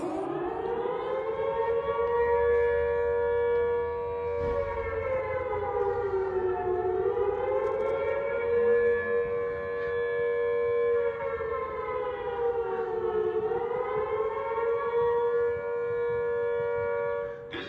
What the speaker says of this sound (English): Emergency siren warning system.